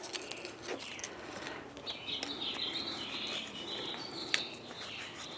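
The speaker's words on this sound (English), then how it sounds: "Isn't it wonderful to hear the birds sing?" Birds chirp and sing intermittently at a moderate distance over a soft outdoor background, with a few sharp, brief calls standing out.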